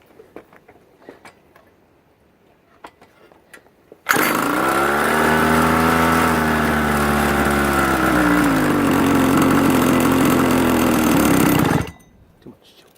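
Pocket bike engine with a newly installed carburetor, run cold with the choke on and no throttle hooked up: a loud, buzzing small-engine drone starts abruptly, holds for about eight seconds with a slight pitch dip, then cuts off, between quiet handling noises.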